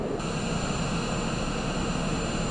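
Jet engine of Air Force One on the ground during the Selma 50th anniversary visit, a steady broad roar with a high whine above it, continuous and moderately loud, with no talking.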